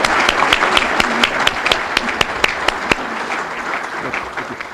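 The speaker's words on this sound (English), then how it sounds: "just want to have a round of applause for Jeff Nelson, who's been important to our" An audience at a school athletic hall of fame ceremony applauds an inductee, with steady moderate clapping and a few sharp claps standing out before it gradually thins.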